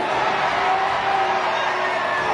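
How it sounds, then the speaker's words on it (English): Concert crowd roaring and cheering wildly, a dense, steady wall of shouts and whoops from a large audience, loud and continuous throughout. "The crowd was going wild."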